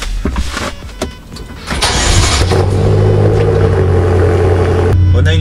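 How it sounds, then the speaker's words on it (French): A BMW M6 Gran Coupé starts up with a starter whirr, then its engine catches into a loud, steady, deep idle rumble that holds close and continuous to the end. "on va la mettre en route pour juste que vous entendiez ce bruit au démarrage qu'elle fait, qui est sublime."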